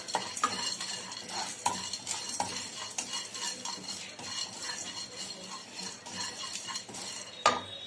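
Shredded cabbage and chana dal are dry-fried in a pan with little or no oil: a utensil repeatedly scrapes and clinks against the metal in an uneven stirring rhythm over a faint background sizzle.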